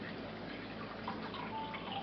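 Water pours steadily into a measuring cup for making almost no-knead bread, a continuous soft trickling stream held at low level for the whole stretch.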